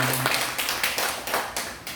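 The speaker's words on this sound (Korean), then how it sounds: "여러분 다시 한번 뜨거운 박수 드리겠습니다" A church congregation claps loudly for a worship mission team in costume. The claps come in a rhythmic, evenly spaced series of strong, close bursts, roughly three a second.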